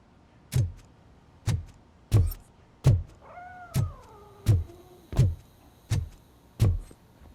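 Grumpy the cat in RoboCop: Rogue City gives a long, wavering meow that rises and sags, alone between nine evenly spaced sharp ticking knocks that keep a steady beat throughout.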